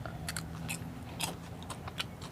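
Crunchy bites into crispy fried roti topped with milk and sugar, close and crackly, in a few quick crunching bursts.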